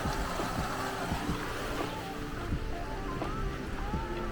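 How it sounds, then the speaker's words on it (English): The Jemez River in New Mexico flowing near a bridge by a hot spring, a steady broadband rush of moving water with gusty wind noise, loud and close, no voices. "This is the Jemez River."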